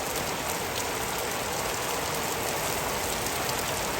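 Heavy rain pours down in Patan district, a dense, unbroken hiss of falling water that holds steady and loud from start to finish.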